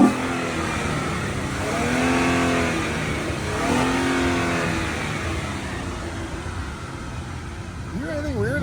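Noble sports car engine revving with extra air sucked into the throttle body after a slipping clutch, two rising and falling revs with a breathy intake whoosh, heard from nearby under steady broadband noise with people talking.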